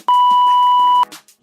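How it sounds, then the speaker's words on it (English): A single steady electronic beep lasting about a second, loud and clean, with faint background noise around it. "leave your question at the sound of the beep"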